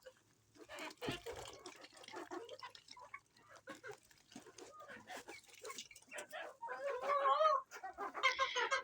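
Chickens clucking in a yard, busy overlapping clucks and chirps at moderate volume, rising near the end, with someone talking over them and faint splashing water.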